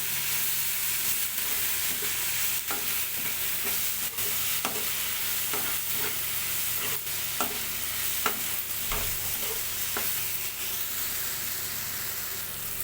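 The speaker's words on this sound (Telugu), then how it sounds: "అప్పుడే మనకు రుచికి సరిపడంత కారం వేసుకొని ఒకసారి కలుపుకుందాం" Egg masala frying in a pan as chili powder is stirred in, a steady loud sizzle with repeated soft scraping strokes of a spoon at a fairly even rhythm.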